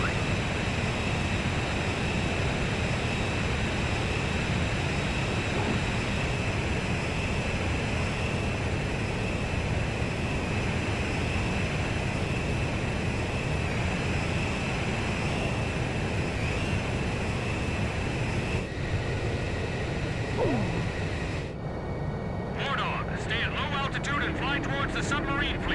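Jet aircraft engines roar steadily and loudly during aerial refueling in the video game Ace Combat 5, a continuous dense drone that drops away near the end, with voices talking over it.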